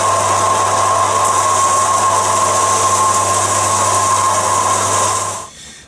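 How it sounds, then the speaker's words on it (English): A guitar bridge saddle is sanded down to reduce its thickness for an LR Baggs Anthem SL pickup fitting, with a loud, steady machine drone and whine running close throughout before winding down at the end. "Then I'll put on a line and I'll sand that off."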